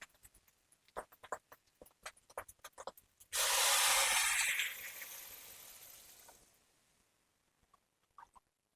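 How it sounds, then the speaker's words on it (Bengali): Water poured into a pan of rice frying in oil for a Basanti pulao, a sudden loud hissing burst that fades slowly over about three seconds, preceded by faint scattered crackles and spatters. "এবার আমি জলটা দিয়ে দিচ্ছি"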